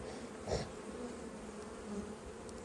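Honey bees drone around an open beehive colony during an outdoor inspection, a soft continuous buzz with one bee passing close, all faint and steady with no talk.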